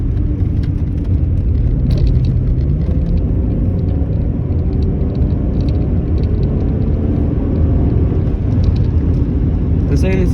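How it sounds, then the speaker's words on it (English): A Rover 75 with a 2-litre V6 and automatic gearbox is driven along, its engine a constant loud, low rumbling drone heard from inside the cabin as someone talks over it. "who doesn't love the sound of a V6? It sounds very good. It's addictive."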